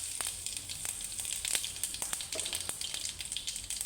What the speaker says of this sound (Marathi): आता तेल चांगलं तापलेलं आहे, आपण त्याच्यामध्ये मोहरी टाकतोय। मोहरी चांगली तडतडली की हिंग टाकते मी